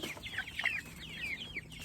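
Cornish Cross chickens clucking on moving day, several soft, chirpy clucks and calls scattered across a couple of seconds, close by with no talking.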